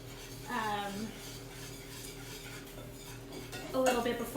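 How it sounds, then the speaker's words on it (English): Flour being whisked into a pan to start a béchamel for a cheese soufflé, soft scraping and clinking of a whisk against metal, close and quiet, with a voice talking briefly at the start. "I'm going to put that in right now. And we're going to whisk it in."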